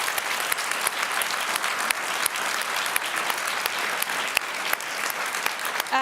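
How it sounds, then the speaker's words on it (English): Steady, dense applause from a large audience at a public policy forum, thanking a departing official; even, sustained clapping throughout with no break. "If you're clapping me out, that's not a good sign."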